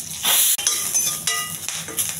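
Curry leaves spitting and sizzling in hot oil in a pan for a simple tempering, a bright crackling hiss with short bursts and clinks of stirring, close and fairly loud, no voices.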